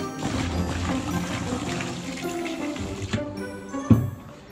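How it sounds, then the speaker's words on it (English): Water poured into a container to moisten homemade clay, a steady splashing, gurgling pour that runs throughout, with a brief louder splash near the end. "I'm going to fill this up with water a little bit, moisten this up, break it down"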